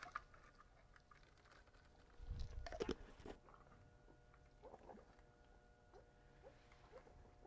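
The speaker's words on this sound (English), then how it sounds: "Now I'm trying to stay quiet so you can hear their little munching sounds" Meerkats munch on a scattering of crickets at close range, with faint, soft crunching and chewing bursts over a quiet background and one louder rustling clatter partway through.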